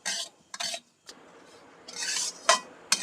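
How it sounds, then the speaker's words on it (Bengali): Semolina stirred and fried slowly in a pan over a low flame, along with cashews and raisins, gives intermittent scraping strokes of a spoon against the metal, in short separate bursts with quiet gaps between, close and without talk. "সুজিটা একটু লাল করে ভাজতে হবে লো ফ্লেমে আস্তে আস্তে ভেজে নিতে হবে"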